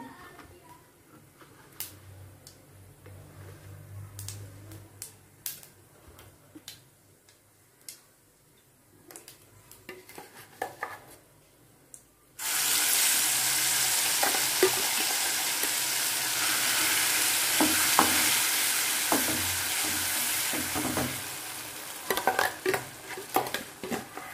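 Chutney hitting a hot pan and frying while being stirred. Quiet clinks and scraping give way to a sudden loud, sustained sizzle that continues under occasional spoon scrapes and taps.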